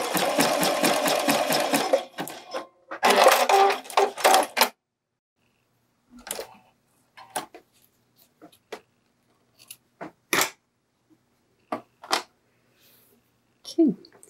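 A sewing machine stitches elastic onto a bralette neckline in two short close bursts of rapid, even needle chatter, then falls silent, leaving scattered handling clicks and rustles of fabric.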